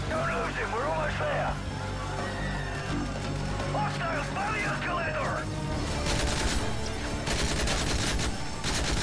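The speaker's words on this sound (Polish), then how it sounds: "Juri, strzelaj do nich, kurde." Gunfire in the video game Call of Duty: Modern Warfare 3, with rapid bursts and volleys of shots running throughout, loud and continuous, mixed with game sounds.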